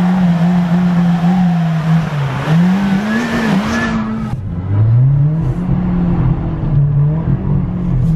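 Toyota Yaris GRMN or GT86 hooning on a frozen ice lake in Sweden, its engine loud and continuous with pitch swooping up and down as it revs, a sharp drop and rebuild midway, with tire scrabbling on ice.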